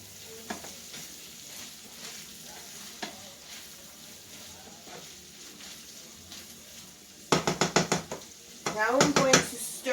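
Arancini filling of rice being stirred in a frying pan sizzles quietly at first, then a spoon scrapes and knocks against the pan in a rapid burst, followed by louder stirring and sizzle toward the end.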